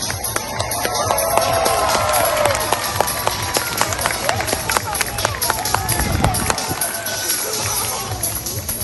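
An audience applauding at a sea lion show at Long Island Aquarium, New York, steady clapping mixed with crowd murmur and scattered voices, filling the space at a moderate distance.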